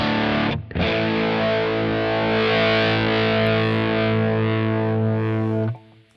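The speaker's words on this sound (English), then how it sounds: "So the distortion level is going from, let's see, very low distortion." Electric guitar played through a Kemper Profiler amp modeler with distortion, a single sustained, harmonically rich distorted chord after a brief opening strum, held loud and steady for about five seconds before cutting off, with no talk.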